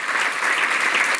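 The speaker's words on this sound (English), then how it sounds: "let's give her a round of applause" A room full of people breaks into a round of applause at a schools arts-plan event, a brief dense burst of clapping held at even, full volume.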